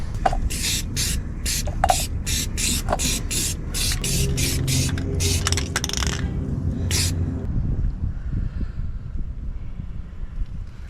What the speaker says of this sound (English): I used the roll bar and chassis paint to spray the frame on top of the primer